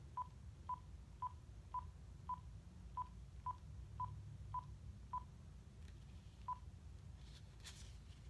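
Telephone keypad tones dialing a number back from caller ID, about a dozen evenly spaced beeps followed by one later beep, alone over a low steady hum.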